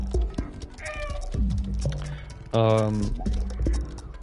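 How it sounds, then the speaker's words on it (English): A cartoonish cat meows loudly in a playful cat video game, several drawn-out meows and a longer wailing call, with faint talk underneath. "you can do even more cat things, like meow"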